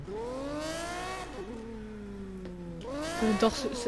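A supercar in Need for Speed revs up through the gears with rising, whining engine tones, drops back, then climbs hard again before a short tire squeal. Faint chatter sits beneath the engine.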